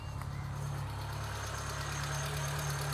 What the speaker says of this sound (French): Elle a un bon ralenti.